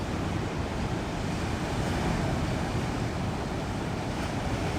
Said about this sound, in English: just listen to the sound of the surf.